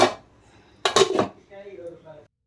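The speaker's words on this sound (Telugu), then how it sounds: "ఓకే, మూత పెట్టేసుకొని ఉడికించుకుందాం ఇదంతా." A metal lid clatters onto a cooking pot of simmering fish curry in one short, close metallic clank, followed by quiet voiced sounds.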